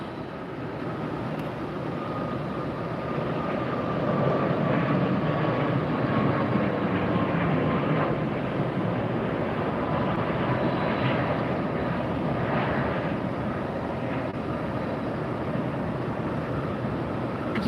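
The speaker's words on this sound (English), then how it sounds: "Southwest taking off next." Southwest Airlines plane taking off at Tampa airport, a steady broad jet engine roar holding at moderate level throughout with a faint rising tone, no voices.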